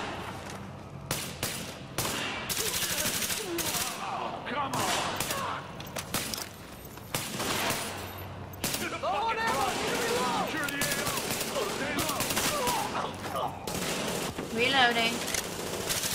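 A firefight at Grand Central Station in Tom Clancy's The Division brings dense bursts of automatic gunfire and rapid shots, loud and close, with voices shouting between the volleys.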